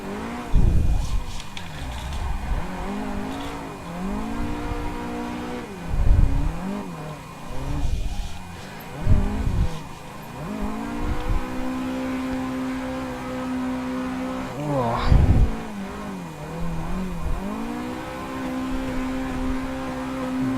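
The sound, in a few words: car engine hitting rev limiter while drifting in Assetto Corsa video game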